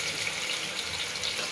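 Chopped onion fries in hot oil, making a steady, close hiss that fills the whole moment with no breaks.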